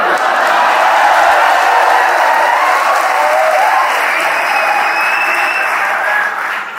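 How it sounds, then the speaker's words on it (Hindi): A crowd of students claps steadily throughout, dense continuous applause with faint cheering mixed in, loud and sustained from start to finish. "इस मोहल्ले में विशेष तालियां बजाइए"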